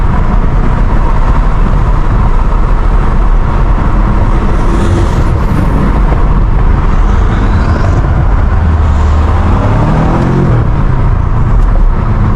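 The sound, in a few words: loud modified car engine on backroads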